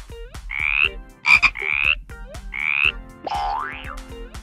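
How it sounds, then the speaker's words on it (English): A frog croaks in a repeated pattern of several raspy, bubbling calls with a springy, boing-like tone, close and clear with no talking. "F for frog."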